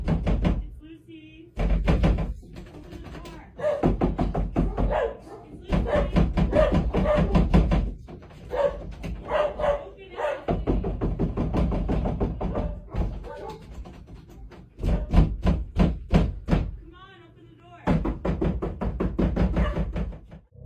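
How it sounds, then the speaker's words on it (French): Sharp, insistent knocks on a door come in repeated bursts of several blows each, loud and close, with short pauses between the bursts. "on entend des coups secs et insistants frapper sa porte."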